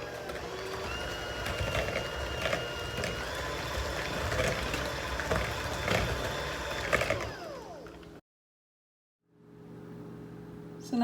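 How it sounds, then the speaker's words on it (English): Hand mixer beating banana chocolate chip muffin batter, a loud, steady close whir with a rattling edge that runs for about eight seconds, then cuts out abruptly before resuming briefly. "So I got my hand mixer. It's gonna be like really loud,"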